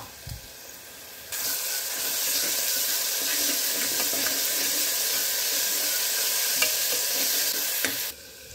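Ginger garlic paste fries and is stirred with onions for a mutton gongura curry, a steady loud sizzle with scraping stirs that begins abruptly and cuts off near the end.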